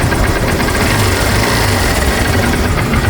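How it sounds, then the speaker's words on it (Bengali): A used 2020 motorcycle with 6,332 km on it idles close by, producing an even, unbroken engine hum with a faint rattle and no speech over it. "দেখেন ইঞ্জিন সাউন্ড।"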